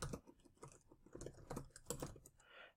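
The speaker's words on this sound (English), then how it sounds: "here I want to type out the website, or my website" Quiet, rapid keystrokes on a computer keyboard as a website address is typed, an uneven run of soft clicks and taps close to the microphone with no talking.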